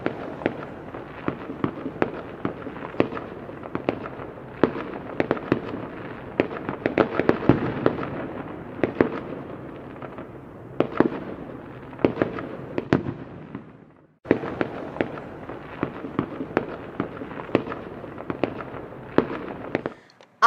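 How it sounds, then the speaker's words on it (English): Diwali celebration fireworks explode in a dense, continuous barrage of crackling pops and bangs. The volume swells and dips, and there is a brief gap about two-thirds through before the rapid bursts resume just as loudly. "There is no Diwali without fireworks."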